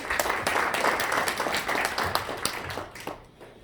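Audience applause for a lecture speaker at a Korean business talk on corporate survival, broad steady clapping filling the room for several seconds before tapering off at the end.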